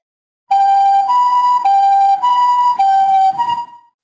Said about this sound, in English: those warnings got louder until the sirens began to wail